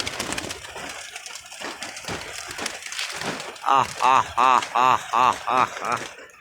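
Pigeons coo in a rhythmic series of about eight close, repeated calls as a female pigeon arrives at a loft box, following softer shuffling and scattered bird sounds.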